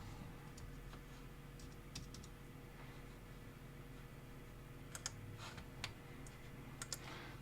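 Quiet typing on a computer keyboard, scattered soft key clicks with a few sharper taps near the end over a low steady hum.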